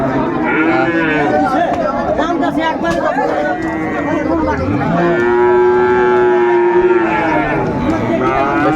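Fleckvieh cattle moo at a crowded livestock market in Bangladesh, with several long, loud lows recurring throughout over constant crowd chatter and nearby voices.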